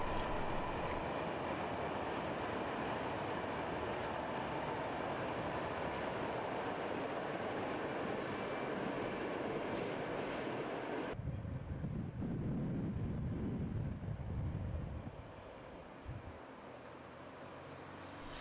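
A freight train hauled by locomotives, one in TX Logistics livery, rumbles past steadily and loudly on the Brenner Railway near Innsbruck, Austria, then cuts off abruptly, leaving a quieter wind-blown rumble that fades.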